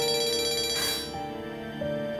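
A phone ringtone plays a repeating electronic melody of bright tones, fairly faint, with no voices over it.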